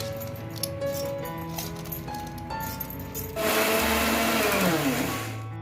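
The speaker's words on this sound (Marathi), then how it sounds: "आता आपल्याला मिक्सरमध्ये चांगले वाटून घ्यायचे आहेत" A mixer grinder grinds soaked rice, whirring steadily at first, then surging into a louder, harsher roar partway through and holding at full power to the end.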